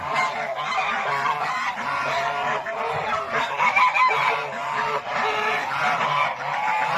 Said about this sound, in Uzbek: Sherkanlar g'ozlar.